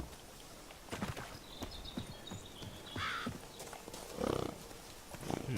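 Geralt's horse Roach in The Witcher 3 shifts around with scattered hoof clops and footfalls, moderately close, plus a brief snort or whinny-like noise, with no one talking.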